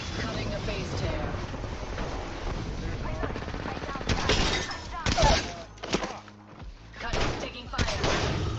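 Video game gunfire, bursts of rapid shots and impacts clustering in the second half over continuous game noise, loud and mixed with a speaking voice.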